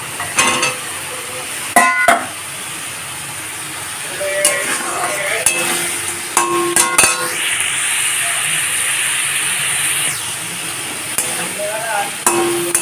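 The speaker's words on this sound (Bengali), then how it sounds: "আবার এখন ভালো করে কষিয়ে নেব এখন ভেজে রাখা মাছগুলোকেও দিয়ে দেবো" Bhola fish pieces, fried earlier, stir-fried in a spiced paste of sugar, turmeric, chilli powder and cumin powder. The sizzle is steady and close, with scraping spoon strokes and metallic clinks and taps against the pan.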